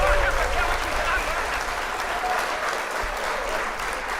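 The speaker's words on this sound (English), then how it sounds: "round of applause to that young dude" An audience breaks into sustained applause, a thick, even roar of many hands clapping close and loud for the whole stretch, with faint voices mixed underneath.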